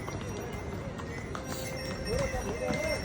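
Horses and donkeys walking along the Kedarnath trekking route, hooves clip-clopping steadily on stone under a busy outdoor crowd with voices and background chatter.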